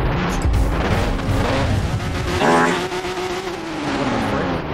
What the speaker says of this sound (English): All these engines are so loud.